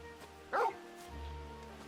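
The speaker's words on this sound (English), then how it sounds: "He's a teleporting smart dog." Torgal, a dog in Final Fantasy 16, gives a single short bark, brief and moderately close over a quiet game ambience with a low rumble afterward.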